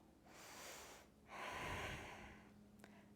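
Deep breathing during a yoga stretch, one soft inhale then a longer, fuller exhale close to the mic, quiet and unhurried.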